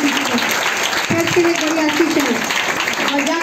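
A church congregation applauds loudly and continuously, a dense wash of clapping that runs for several seconds while a preacher keeps speaking over it.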